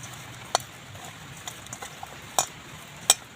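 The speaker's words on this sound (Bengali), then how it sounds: "পাউরুটি আর বেসনটা ভালো করে পেঁয়াজের মধ্যে আরও একবার মাখিয়ে নিচ্ছি।" Bread and gram flour are kneaded by hand into chopped onions for bread pakora, soft close squishing broken by a few sharp clicks against the bowl.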